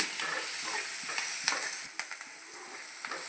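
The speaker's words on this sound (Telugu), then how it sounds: "పచ్చిమిర్చి ఒక 2-3 తరుముకొని అవి కూడా డీప్ ఫ్రై చేయాలి" Green chillies deep fry in hot oil in a pan for a Karnataka-style fish curry, making a steady bright sizzle with small crackling pops and a couple of brief stirring scrapes.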